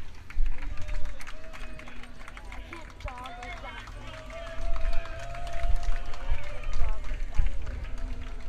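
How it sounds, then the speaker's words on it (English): Spectators lining the course of the Vancouver Sun Run cheer and clap as runners pass, a lively but somewhat distant crowd wash with whoops, heard from a moving pace car with someone talking over it. "More people here cheering."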